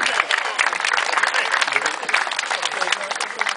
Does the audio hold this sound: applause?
yes